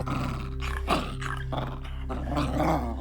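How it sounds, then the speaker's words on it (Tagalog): A dog growls low and steadily for about three seconds, with a sharper snarl near the one-second mark, close and fairly loud. "lalo pa nang marinig ko ang galit na pag-angil ng aso"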